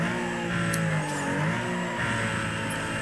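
Game car from Need for Speed Most Wanted racing at high speed, a steady loud engine drone with shifting pitch and brief tire or wind hiss, continuous throughout with no talk.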